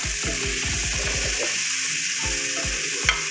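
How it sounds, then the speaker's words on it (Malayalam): Vegetables are stirred through oil in a pan. A loud, constant sizzle carries quick repeated scrapes of a spoon against the metal, close and busy. "ഇത് നന്നായിട്ട് ഇളക്കി കൊടുക്കാം നല്ലപോലെ ഇളക്കി"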